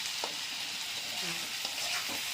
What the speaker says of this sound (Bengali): আলুটাও ভাজা হয়ে এসছে প্রায়।